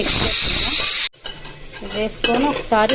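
A spoon stirring garam masala, coriander and cumin powder into frying vegetable biryani curry in a pan, with loud sizzling and scraping at first, a brief pause, then renewed stirring scrapes over a softer sizzle.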